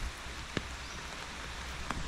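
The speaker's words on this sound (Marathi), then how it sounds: "बघूया आता पाऊस कधी जातो." Rain falls steadily at a village in the Konkan, a dense, even hiss with a couple of sharper drops landing nearby, and no voices.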